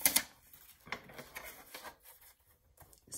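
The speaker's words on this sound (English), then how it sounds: "we're just scoring it 3 times around here at 1/4 inch" Scoring tool drawn along a sheet of vellum paper for a handmade paper wallet, three passes at a quarter inch, producing faint, close, short scratchy strokes with light taps and rustles in a quiet room.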